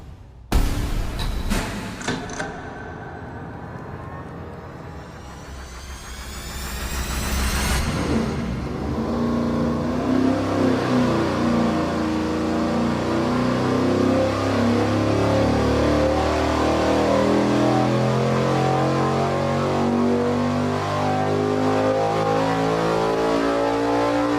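A high-RPM V8 race engine on a dyno, fitted with the smallest exhaust-duration camshaft, fires up and then pulls hard, its loud roar climbing steadily in pitch toward 7,000 RPM and holding there alone.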